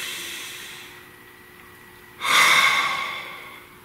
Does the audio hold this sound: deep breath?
yes